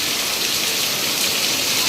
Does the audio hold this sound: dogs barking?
no